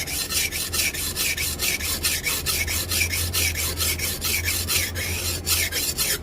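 Sharpening a badly damaged cleaver blade, with steady rhythmic rasping strokes against a stone or sander, repeating about three times a second at close range, loud and without any talking.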